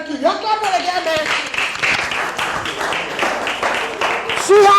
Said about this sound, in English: You're clapping again, man.